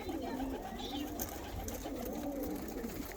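Pigeons cooing steadily inside a box, soft repeated low coos overlapping one another at close range with a constant hum beneath and no talk.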